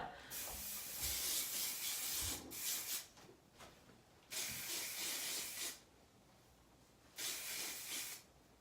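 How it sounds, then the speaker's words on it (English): Close hissing bursts of an aerosol spray, three main long sprays of a couple of seconds each with shorter spurts in between. "just spray it, and then you want to just brush through that spray"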